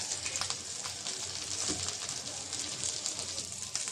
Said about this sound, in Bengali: এই মাছ ভাজতে গেলে অনেক পানি বের হয়